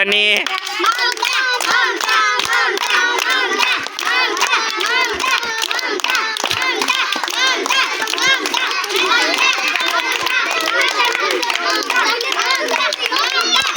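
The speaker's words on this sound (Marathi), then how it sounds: "टाळ्या वाजवा" Children clap during an indoor game of placing bottles in a circle, a dense, continuous patter of many small hands, with excited kids' voices and chatter mixed in throughout.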